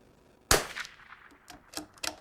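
A single loud, close Vudoo rifle shot cracks sharply and rings out in a decaying echo. A few fainter clicks and knocks follow.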